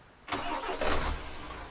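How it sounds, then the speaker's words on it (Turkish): A MAN TGA truck engine in Euro Truck Simulator 2 turns over and starts, then settles into a steady low running hum with a brief rev partway through. "Önce aracın çalışma sesini duyalım."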